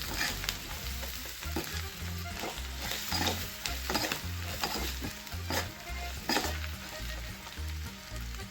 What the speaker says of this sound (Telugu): ఇప్పుడు వేరుశనగలు వేసుకుంటున్నాను